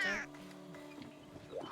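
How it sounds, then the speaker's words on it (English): Short, fairly faint meow from a cat in the video game De Blob 2, rising then falling, followed by quiet game background sounds. "that was a cat. That was a feline in game."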